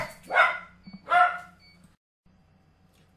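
A dog gives two loud, close barks about a second apart, followed by a quiet stretch of low room hum.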